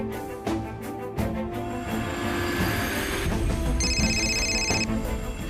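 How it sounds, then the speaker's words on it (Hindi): A phone rings on an outgoing call, a steady repeating electronic ring tone over faint background hum, with one clear tone burst near the end. "सोहिनी को फोन करता हूं।"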